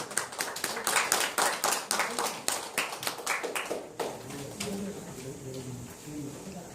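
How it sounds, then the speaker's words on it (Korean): Audience members at the first-anniversary ceremony of a Korean history volunteer group clap for a newly published book, a fairly close, uneven round of claps lasting about four seconds before fading into low talking. "책이 나왔기 때문에 박수"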